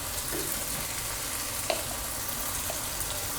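Chili, coriander and turmeric powders being mixed in a frying pan for fish mappas, giving a steady, close sizzle with a faint scrape or two, no voices.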